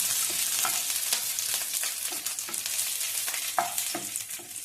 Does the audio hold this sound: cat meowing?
no